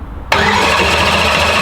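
A car engine catches after a short crank and settles at once into a loud, steady running note, close by, with no talk over it.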